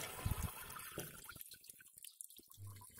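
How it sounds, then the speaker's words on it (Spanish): Potassium soap poured into a garden sprayer holding about ten litres of water, a soft close liquid splash and trickle with small drips, faint and brief with no talking. "Vertemos el contenido del jabón potásico."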